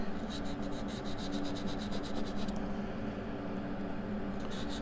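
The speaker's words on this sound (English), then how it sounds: "I'm just going to sand down a little bit" A soldered ring is sanded with 320-grit wet-dry sandpaper, making a close, steady scratchy rubbing in quick repeated strokes for a few seconds with no talk.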